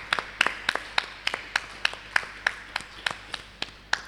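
A church congregation at a children's service claps in a steady, regular rhythm to acclaim the Lord, sharp hand claps repeating about twice per second, fairly close, with no talk over them.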